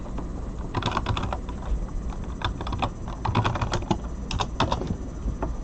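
Typing on a computer keyboard, with a steady patter of close key clicks in uneven bursts and short gaps between them.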